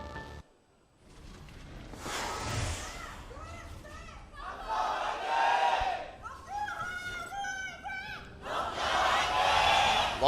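Longzhu fans at an esports match erupting in loud cheers and chants, swelling in waves after a brief quiet moment, with scattered shouting voices in the crowd.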